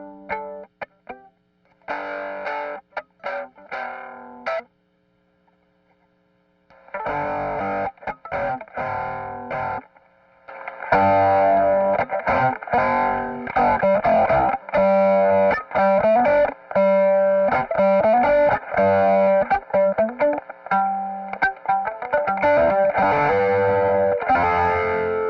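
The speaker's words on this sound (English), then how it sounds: "So let's turn on the Astrotone and both sides of the King of Tone and see how that sounds." Electric guitar run through an Analogman Astrotone fuzz and both channels of a King of Tone overdrive, playing loud, saturated chords and riffs with sustained notes, a brief pause early on, then dense continuous playing alone.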